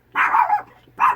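A dog barks indoors at close range, one long throaty bark followed by a shorter second one after a brief pause, loud against a quiet room.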